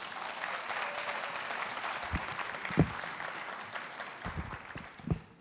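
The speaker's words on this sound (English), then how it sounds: "Give yourselves a round of applause." Graduates of the Lambton College in Toronto class of summer 2018 applaud themselves at their fall convocation ceremony, a steady, moderately loud wash of many hands clapping in a large hall, with a few sharper knocks standing out.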